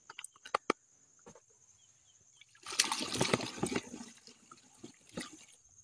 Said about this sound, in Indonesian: tinggal kita penuhin pakai air